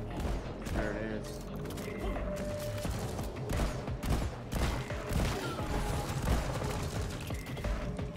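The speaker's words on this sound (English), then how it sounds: "Come on, you dig turret. Shoot it." A dig turret in the game Deep Rock Galactic fires in steady bursts amid busy combat noise. Mechanical clatter and the game's music run underneath, and it sounds loud and continuous throughout.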